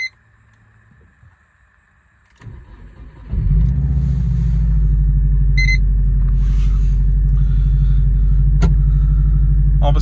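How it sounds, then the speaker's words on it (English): A modified 2010 Subaru Impreza 2.5 WRX S AWD with a custom map, engine cold: a quiet cabin, the starter cranking briefly, then the engine catching and settling into a loud, steady, deep idle rumble. "But let's just start this up."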